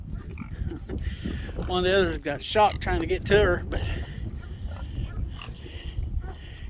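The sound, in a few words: pigs grunting on a farm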